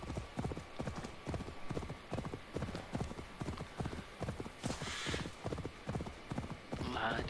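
Horse hooves galloping in Assassin's Creed Valhalla, a steady rapid clip-clop rhythm running throughout, close and prominent, with a brief whoosh near the end.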